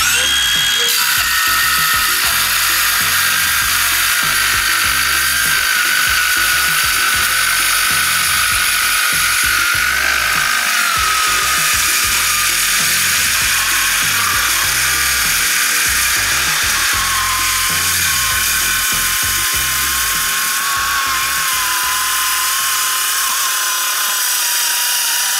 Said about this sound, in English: So this is the 5 7/8 saw.